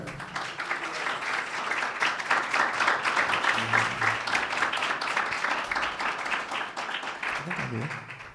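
Sustained applause from a church congregation, dense clapping that swells and holds steady for several seconds, with voices briefly audible near the end.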